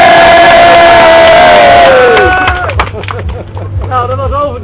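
An outdoor crowd at a ratbike build-off contest cheers and whoops for the red motorcycle, a loud roaring swell that fades into scattered shouts and whistles, with a chugging motorcycle engine idling underneath.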